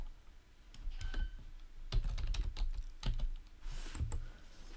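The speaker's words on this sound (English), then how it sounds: "start typing out the name of the file, and it should eventually come up" Computer keyboard typing as a file name is entered while building a web page, with quick irregular clusters of crisp keystrokes close by and no talking.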